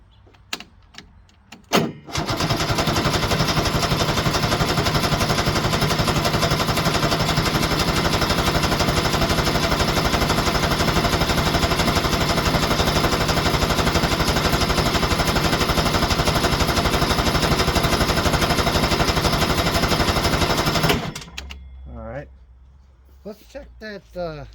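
A 1973 Ski-Doo 399 twin snowmobile engine fires and runs loud and steady for nearly twenty seconds, a harsh rapid two-stroke clatter, then cuts off abruptly into quiet.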